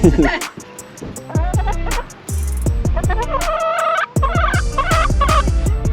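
Several turkeys gobble in repeated bursts, loud and close, with overlapping calls and a brief pause between volleys.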